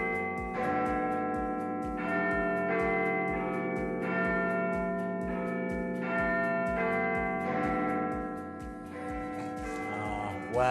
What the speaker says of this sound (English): The name refers to the biggest bell inside what had for more than a century just been called the Clock Tower.